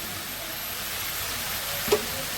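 Eggplant, potato and cauliflower sizzle in hot oil with fried spices, a steady close frying hiss with one brief louder crackle near the end; no one speaks.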